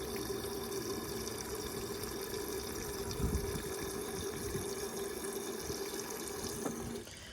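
A 1978 Eljer Emblem toilet tank refilling with water, a steady close hiss and rush of flow running evenly for several seconds before tapering off near the end.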